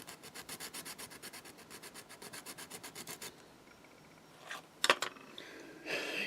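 Rhythmic back-and-forth rasping of flexible sandpaper on wood, close and quiet, followed by a few louder scrapes and knocks.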